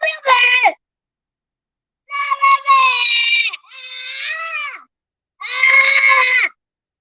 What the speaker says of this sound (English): If you keep screaming, mommy's turning off the TV.